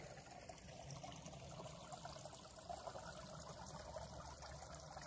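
Water trickles steadily through a small creek in a forest canyon, a soft continuous babble and dribble close by with no voices, gentle and even throughout.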